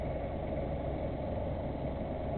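The engine of a Snap Dragon motor boat runs at a constant low, droning throb that stays steady and fairly quiet, with no voices.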